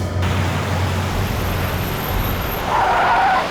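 A car skids on a road as it brakes to a stop, a steady rushing tire noise under a low engine hum, ending with a brief high squeal.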